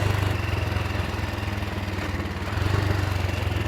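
A BSA 441 Victor single-cylinder motorcycle engine runs steadily nearby, a low, rapid thumping pulse with a raspy mechanical overtone, holding an even idle-like rhythm throughout with no talk.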